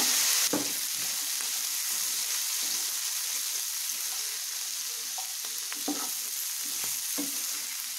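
Vegetables including peas and capsicum cooking in a pan, giving a steady soft sizzle with occasional stirring scrapes and clinks throughout, close and moderately loud, with no talk.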